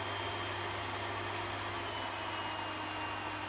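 A Miele Complete C3 Silence EcoLine Plus cylinder vacuum cleaner runs on a low setting, giving a steady, even motor hum and airflow hiss with no change in level and no voices.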